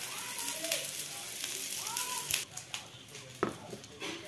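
Food frying in a pan on a gas stove in a home kitchen, a soft steady sizzle with a few sharper spits and pops, while voices and children's chatter carry over it.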